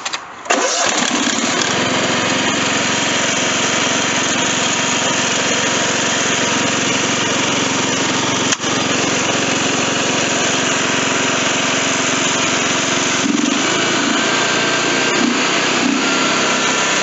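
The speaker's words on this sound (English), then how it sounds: "So, this is how you start the lawnmower." A key-start lawnmower engine fires almost at once and settles into a loud, steady high-pitched running drone close by.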